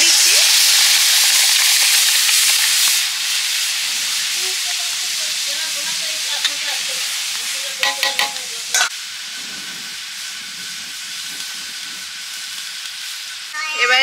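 Lentil batter hits hot oil in a loud sizzling burst that fades after about three seconds to a softer, steady frying hiss, with a few light clinks of a utensil near the end.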